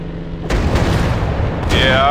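Booming anti-aircraft gunfire and bomb blasts in a WW1 air combat video game, a dense rumbling barrage that swells loud after a quiet start, with a brief higher whine near the end.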